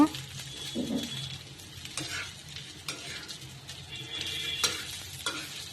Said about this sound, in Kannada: ಇನ್ನೊಂದು ಸ್ವಲ್ಪ ಆಯಿಲ್ ಹಾಕ್ಬಿಟ್ಟು ಚೆನ್ನಾಗಿ ಫ್ರೈ ಮಾಡ್ಕೋಬೇಕು